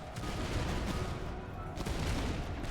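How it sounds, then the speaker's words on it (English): Cannon fire during a battle in the Master of Command video game, a dense rumble of distant booms and volleys rolling on continuously, with no voices. "Cannon fire going straight into our sodding flanks."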